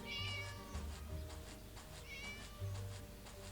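A cat meows in the horror video game Scary Teacher 3D, giving two drawn-out, wavering meows a couple of seconds apart over steady game background music.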